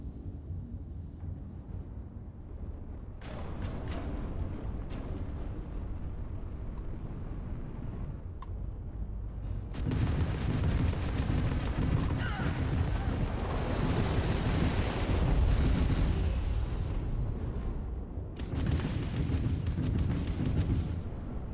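Ship weapons firing in the space game Starfield: heavy booming volleys and rumbling blasts in loud stretches over a steady engine drone, fairly close.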